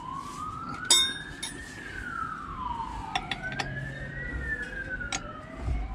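An ambulance siren rising and falling as it passes outdoors at moderate distance, with scattered metallic clinks of spanners nearby and no speech.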